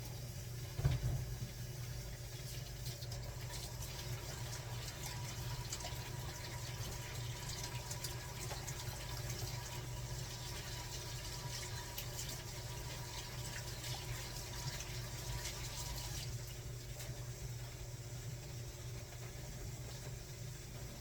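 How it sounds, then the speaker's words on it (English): Hands are washed under a running kitchen tap, a steady unbroken rush of water that holds at an even level for about twenty seconds, with a low hum beneath it and no voices. "Let me wash my hands."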